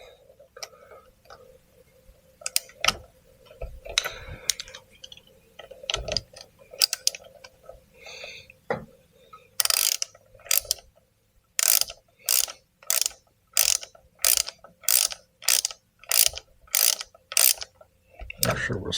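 Set screws being tightened on a chain hoist garage door opener by hand, giving a long run of quick, evenly spaced ratcheting clicks, close and fairly loud, after scattered metallic taps and handling noises.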